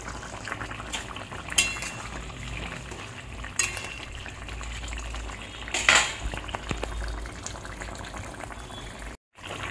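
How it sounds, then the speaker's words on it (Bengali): Koi fish curry gravy with potato and cauliflower boils in a pot, giving a steady close bubbling with occasional louder pops before a brief cutout near the end. "মাছগুলো ঝোলে দিয়ে দিয়েছি, ঝোলটা ফুটছে।"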